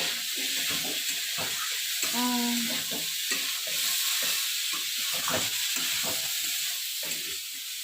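Spices and added ingredients being sautéed in a pan for roti tarkari, a steady loud sizzle and frying hiss with scraping stir strokes running throughout, a brief tonal whine near the middle.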